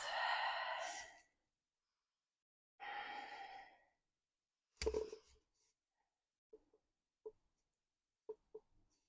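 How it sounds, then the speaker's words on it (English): Two long, loud breaths near the mic during an exercise routine, each lasting about a second, separated by a pause and followed by a few soft clicks and small taps. "Nice deep breaths."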